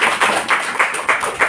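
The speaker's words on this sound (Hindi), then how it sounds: "ताली तो बजाओ।" An audience at a Brahma Kumaris gathering in Sirsa claps briefly, loud and close, a short burst of uneven hand claps with no talking.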